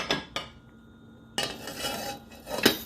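A lid set on a pot of rice simmering on a stove gives sharp metallic clanks and rattles, a couple of knocks at the start and then a longer clattering scrape, close by and with no voices.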